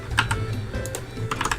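Computer keyboard keys are pressed close by in a few quick, irregular clicks and clatters, with no talk over them.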